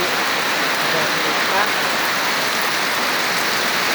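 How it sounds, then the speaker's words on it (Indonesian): Heavy rain pours down in a steady, dense hiss that stays loud and even throughout, with a faint voice barely audible beneath it. "Nah ini malah hujan deras ini ya."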